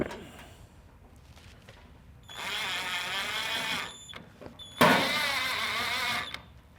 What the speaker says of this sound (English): we'll put the panel up and put in our 4 screws